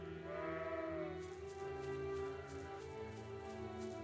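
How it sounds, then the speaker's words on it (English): Wandering sheep in the video game Trails of Cold Steel, a few drawn-out bleats over a steady tonal background, moderately faint. "Wandering sheep."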